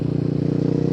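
A KTM 500 EXC-F single-cylinder motorcycle engine runs steadily up close, a loud low throbbing drone with a regular pulsing beat and no talk over it.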